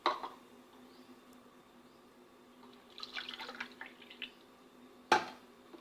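Water is poured into a pot for making dough, heard as faint splashing and dripping that picks up briefly in the middle, with a sharp clink of the pot near the end.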